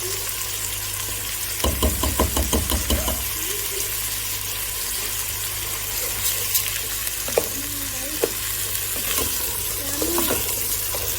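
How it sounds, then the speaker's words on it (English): Washed, dried rice tipped into a hot pan and stirred, a steady hiss of frying with a quick burst of rapid scraping strokes early on, then sparse clinks and scrapes, close and fairly loud. "And add the washed and dried rice."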